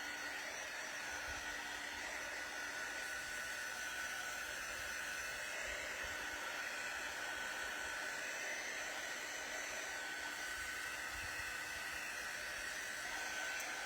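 A hair dryer blows steadily and evenly on a painted wooden cutting board, a constant close whooshing roar that carries on without a break for the whole stretch.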